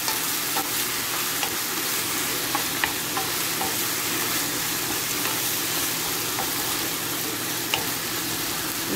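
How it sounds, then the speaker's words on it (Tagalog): Ground pork frying in a pan with steady sizzling and a spatula stirring and scraping at irregular intervals, close and continuous, with no voices. "Lutuin muna natin ang ground pork bago natin ilagay ang mixed vegetables."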